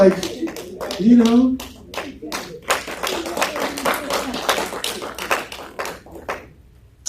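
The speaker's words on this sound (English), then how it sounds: "if you are clapping, clap well" Scattered hand clapping from a crowd, uneven and rhythmic in bursts, with a voice speaking over the start before the claps take over.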